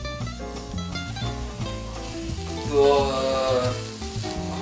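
Anchovy sauce sizzles and crackles in a hot pan as water is poured in, the frying hiss swelling briefly as the water hits, over a layer of soft background music.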